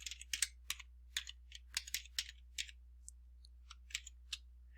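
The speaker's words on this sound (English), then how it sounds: "we just have to type in this formula, equals 1 minus norm.dist" A formula is typed into an Excel spreadsheet on a computer keyboard: crisp, close keystrokes in an uneven rhythm of short runs and single taps over a low steady hum, quiet and without talking.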